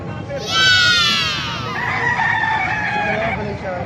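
A white Kelso rooster crows once, loud and close, a long drawn-out call with a rising start and trailing end, set among other fowl at a poultry market in Calumpit, Bulacan.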